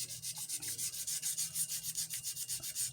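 Sandpaper rubbed by fingertip over a 3D printed plastic cosplay pistol prop, a steady rhythmic rasping stroke repeated about six times a second, close and fairly loud with no talk.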